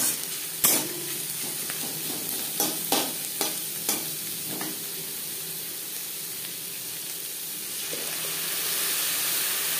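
Onion and crushed garlic frying in a pan, a steady soft sizzle with a few sharp clicks and stirring scrapes early on, the hiss swelling slightly toward the end.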